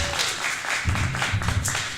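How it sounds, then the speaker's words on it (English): Audience at a Green Party talk in Baltimore applauds the candidates, a steady, fairly quiet wash of many hands clapping with a few louder claps and a faint voice underneath. "Can we give another big round of applause for every one of those amazing candidates?"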